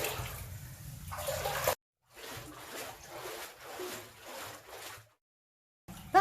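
Faint, uneven water trickles and sloshes inside an old 1600s lead mine, coming in short bursts broken by brief silences.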